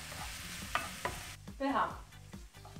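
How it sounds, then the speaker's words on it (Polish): A mushroom and cheese omelette frying in a pan, with a soft steady sizzle under clear scraping and stirring taps from a utensil, heard close and at low level. "I to wszystko ma się nam ładnie usmażyć."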